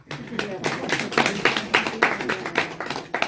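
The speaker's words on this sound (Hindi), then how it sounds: "शकुंतला माता के लिए ताली हो जाए एक बार।" An audience claps for Shakuntala Mata at a spiritual class for mothers, with a scattered run of sharp claps mixed under ongoing talk close by.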